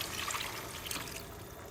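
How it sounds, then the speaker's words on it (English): Water pours into a pot of lentils for masoor daal, a continuous soft splashing and trickling, moderately close and without talk. "go ahead and add your water."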